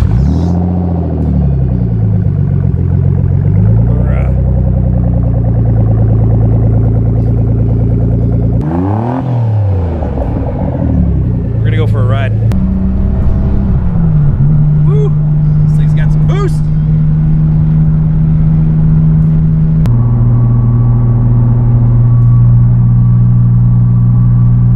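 A Nissan RB26 engine swapped into a 300ZX cranks, fires and settles into a loud, steady idle, with revs rising and falling in bursts; people talk over it at times.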